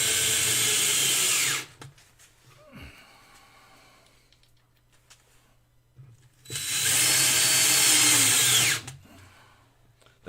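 A power drill drives screws into spalted beech in two loud, close bursts of whining motor, separated by a quieter pause with a faint breath.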